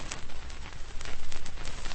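Heavy rain pours steadily as a radio drama sound effect, a dense, continuous hiss of drops beating on a surface, loud and close, with no voices over it.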